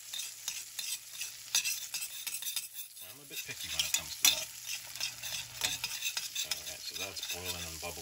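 A smoked pork chop sears in a frying pan with a steady close sizzle and crackle, broken by scraping and clinking of a utensil against the pan as the meat is moved.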